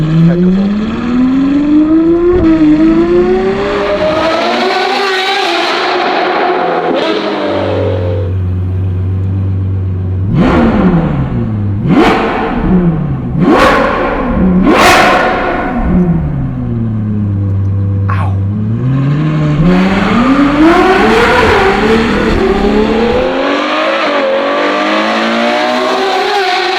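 Novitec Ferrari 812 N-Largo S with its naturally aspirated V12 revving hard on the move, loud close engine howl climbing and falling through repeated sharp rev sweeps, dropping to a low idle rumble in between, with a voice talking over it.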